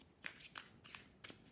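Tarot cards being shuffled by hand, four quick riffling bursts close up and fairly soft, with no voices.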